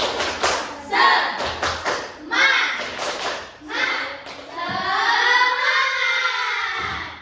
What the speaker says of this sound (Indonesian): Kita ice breakingnya tepuk semangat.